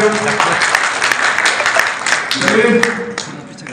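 An audience at a Jangid community welcome event applauds a guest being honoured with a shawl, a dense steady clapping that continues throughout, with voices mixed in beneath it.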